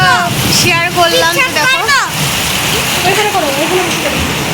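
Heavy rain falls at night with a loud, steady hiss that lasts the whole time, while a person talks over it for the first half.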